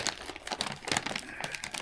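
Thick plastic packaging crinkles and crackles up close in quick, irregular bursts.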